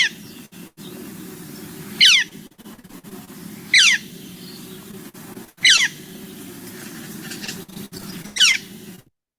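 Northern flicker calling, four sharp, high, descending cries spaced about two seconds apart, each standing out clearly over a low steady background hum.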